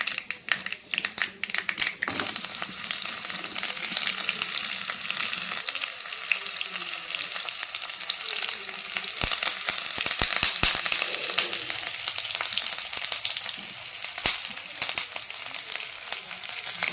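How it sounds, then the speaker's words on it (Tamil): Onion frying in hot oil after mustard seeds have popped, tempering for millet sambar rice: a dense, continuous close sizzle with scattered crackles and a few utensil taps, no voices. "எண்ணெய் விட்டு கடுகு பொரிஞ்சதும் வெங்காயம் போட்டுடலாம்"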